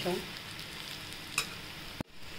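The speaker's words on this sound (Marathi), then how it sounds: "आता आपण हलवून घेऊया," A spoon stirs a dry-roasted mix of ground peanuts, coconut and sesame in a pan for bitter gourd panchamrut, giving a steady scraping rustle with a faint sizzle, one sharp scrape near the end, no talking.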